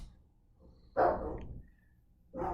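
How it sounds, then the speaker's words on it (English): A dog barks twice in the background, a single loud bark near the start followed by another after a short pause, with no talking over it. "my dog's just going to bark in the background."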